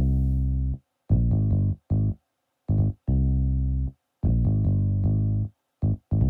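A soft, round fingered electric bass from the Expand 2 soft finger bass sound plays a short stop-start line of low notes, alone with brief silences between phrases.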